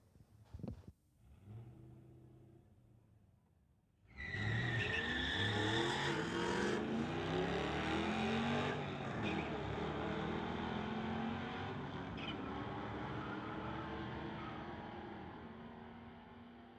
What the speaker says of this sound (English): Camaro versus Camaro coming up next here at the Friday Night Street Legals